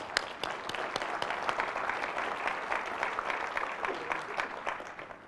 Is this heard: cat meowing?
no